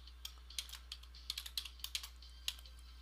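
Bursts of keyboard typing on a computer, a scattered run of quick, light key clicks with short pauses between them, fairly faint and close, with no voices.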